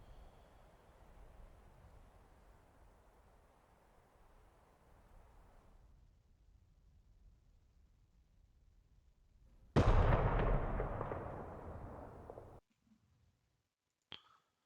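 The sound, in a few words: artillery explosions in the video game DCS: Combined Arms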